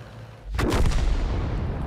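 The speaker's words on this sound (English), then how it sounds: "get out of the way of the artillery strike before it actually blaps you" An artillery strike in the World of Tanks video game lands as a single sudden heavy boom, loud and close, then rolls into a rumbling decay that fills the rest of the moment.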